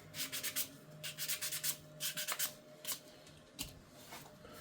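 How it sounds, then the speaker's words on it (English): A wooden spatula being sanded with 320 grit sandpaper, a series of quick rhythmic rubbing strokes in bursts, close and fairly faint. "give it a bit of sandpaper"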